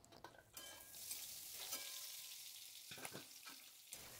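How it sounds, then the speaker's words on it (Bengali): Pointed gourd with salt and turmeric frying in oil under a lid, giving a soft, muffled, steady sizzle with a few brief clicks and knocks, quiet throughout. "এখন ঢাকনা দিয়ে ভালো করে পটলটা একটু ভেজে নেব।"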